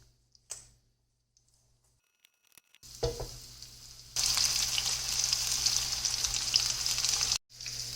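Keto chicken strips in hot coconut oil, a second batch going into the pan: near-silence with a few clicks, then a steady loud bright sizzle that holds for several seconds before a brief gap.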